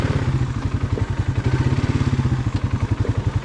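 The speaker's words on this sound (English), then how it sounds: "Gotta love that engine brake." Motorcycle engine braking while rolling downhill on the first ride of the year: a close, steady run of low, rhythmic burbling pulses with a faint mechanical clatter and no talking.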